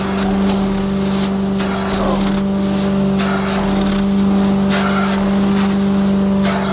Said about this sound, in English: Again, vacuuming.